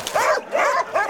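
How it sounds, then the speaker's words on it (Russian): A dog at a Russian dog shelter gives three quick, close, high barks in an even rhythm, with nothing else around them. "А это Чарли, очень добрый и веселый пес из соседнего вольера."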